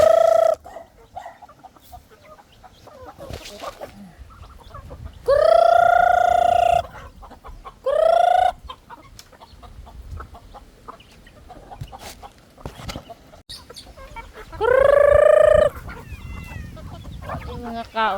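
Chickens cluck and crow at a farm, with several loud, drawn-out calls rising above a background of scattered clucks and rustling.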